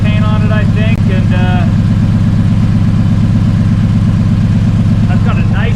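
Cobra Daytona build engine running through a glass pack exhaust idles with a deep, throaty, steady rumble while someone talks over it in short bursts.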